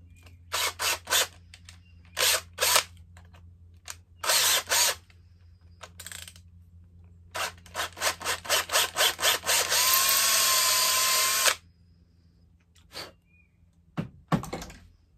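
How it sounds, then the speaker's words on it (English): A power drill bores holes during a carburetor install on a Husqvarna 365/371/372XP chainsaw, running in short whirring bursts, then one longer continuous run before it stops, with faint clicks after. "all right, holes are drilled."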